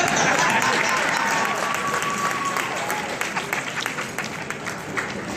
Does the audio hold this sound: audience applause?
yes